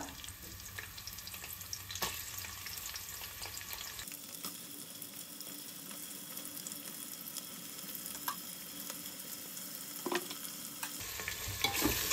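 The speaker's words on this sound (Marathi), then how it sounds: "आता मी यात घालते आपण उभा चिरून घेतलेला कांदा" Sliced onions sizzle in oil in a pot for one-pot biryani, with steady frying hiss and intermittent scraping stirs of a spoon; close and continuous, no voices.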